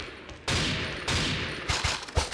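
Bursts of automatic gunfire fill a shooter video game match, loud and dense, with sharper single shots near the end and no talk over them.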